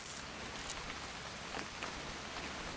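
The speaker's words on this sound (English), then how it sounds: "It's gonna rain the whole weekend, isn't it?" Steady rainfall in the video game What Remains of Edith Finch, a dense, even hiss of drops on surfaces running alone and unbroken throughout.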